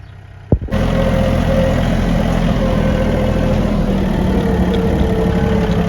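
A Japanese tractor engine starts with a brief crank, then settles into a loud, steady, close running drone that continues unbroken to the end.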